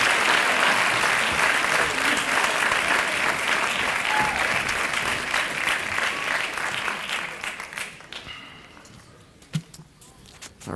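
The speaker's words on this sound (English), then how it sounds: "I told you all would clap." Graduation audience at a 2017 school ceremony applauds loudly and steadily, the dense clapping fading over the last few seconds into scattered claps and murmuring.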